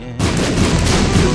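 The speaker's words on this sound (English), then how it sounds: "I blew up a hole in the wall" A bomb blowing open a wall in The Binding of Isaac: Wrath of the Lamb, a single loud, dense blast that bursts in suddenly and keeps a heavy rumbling roar to the end.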